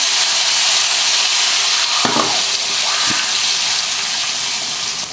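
Cumin tempering is poured into a pan of curry, adding to a loud, steady sizzle and frying hiss, with a brief splash and crackle partway through.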